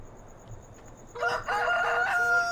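Rooster crowing loudly from about one second in, a drawn-out harmonic call with a short break, over faint clucking from chickens in a farmyard in the game Farming Simulator 17.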